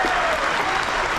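Loud, close crowd applause aboard the Carnival Pride cruise ship during a sea-day activity, a thick continuous burst of clapping lasting about a second.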